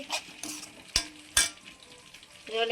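Ginger garlic paste frying in a pan for chicken curry, with a low sizzle and several sharp scrapes and clanks of a spoon stirring against the metal pan.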